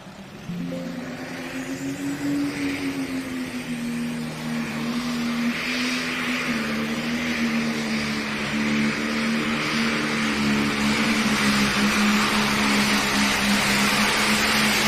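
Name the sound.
pulling tractor engine at a tractor pull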